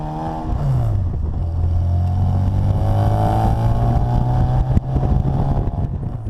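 A supercharged 1959 Bugeye Sprite with a five-speed gearbox pulls away, its engine rising in pitch then settling into a steady, loud drone close by, with wind buffeting the microphone.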